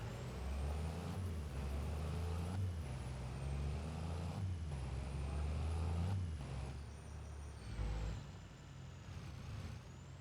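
A heavy truck in Farming Simulator 25 drives steadily with a low, continuous engine drone and faint air-brake hiss, holding a fairly even level throughout with a slight dip near the end.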